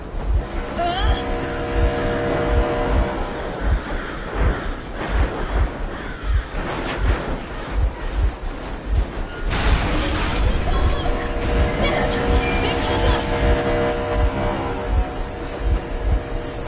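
A vehicle engine runs steadily in the video game Metro Exodus, a loud continuous rumble with pulsing low throbs, under voices talking throughout.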